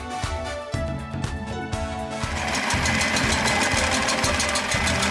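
Concrete floor grinder with abrasive blocks running loudly up close, a rhythmic mechanical knocking drone that shifts to a denser grinding roar after about two seconds, no voices.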